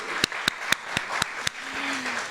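A few slow, distinct claps for speakers at a university faculty event spaced evenly apart over a soft hiss, followed by a brief low tone.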